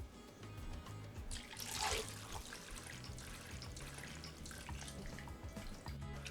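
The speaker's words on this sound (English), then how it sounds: "So I'm gonna add the water" Water poured into a blender jar while making coconut shrimp Alfredo: a short splashing gush peaks around the second mark, then settles into a steady low wash over a busy kitchen background.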